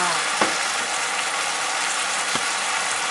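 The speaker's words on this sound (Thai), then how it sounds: "ผัดปลา" Grouper pieces stir-fry in a hot pan with a steady, even sizzle, broken by two brief scraping clicks of the utensil, heard close and alone.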